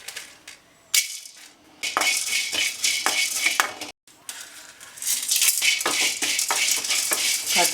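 Whole spices tossed and stirred in a dry pan for masala powder, with bursts of scraping and rattling as a spoon moves them around, loud and close with short pauses between strokes.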